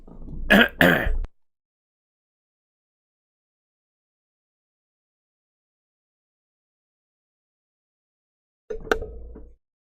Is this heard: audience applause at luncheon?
no